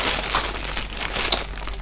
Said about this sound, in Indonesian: Oke, plastiknya sudah dibuka.